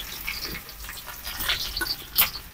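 Chopped garlic and onion frying in a pan over a clay stove, a steady soft sizzle with light crackles and a brief sharper spatter near the end, no talking.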